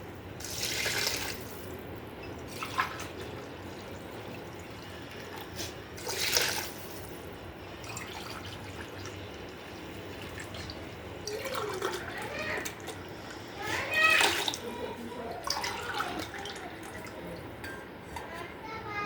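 About one and a half glasses of coconut milk poured into a cooking pot for coconut rice, giving a steady liquid splashing with a few louder bursts and faint kitchen clatter nearby.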